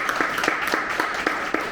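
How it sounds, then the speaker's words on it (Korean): Audience at a conference applauding to welcome a speaker, a brief burst of loud clapping that keeps a fairly even rhythm. "큰 박수로 맞아주시기 바랍니다."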